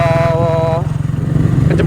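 A 2018 Benelli 200 EFI motorcycle engine hums low and steady throughout, with a short tonal sound over it at the start.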